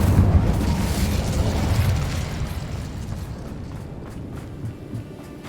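Blasting fire-spell explosion from Incendio in Hogwarts Legacy, a loud roaring burst that crackles and fades steadily over several seconds, with a few faint pops near the end.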